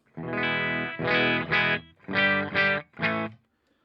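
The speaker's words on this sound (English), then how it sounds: "I'm demoing it on a guitar with a humbucker in the bridge and a P90 in the neck" A clean electric guitar with a bridge humbucker and neck P90 plays a handful of ringing chords through a Blue Guitar Amp 1 clean channel, short gaps between them, fairly loud and alone, bright and full.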